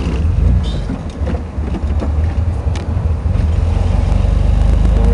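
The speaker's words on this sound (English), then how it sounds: "Driving through the residential neighborhood." A car drives through a residential neighborhood, with a steady low engine and road rumble plus some wind buffeting, continuous and close.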